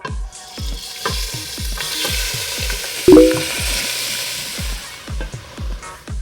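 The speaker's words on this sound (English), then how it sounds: "We're going to brown this off in the pan" Black Angus stew meat browning in a pan, with a steady sizzle under a regular run of thumping taps and scrapes from stirring, and one sharper metallic clank midway.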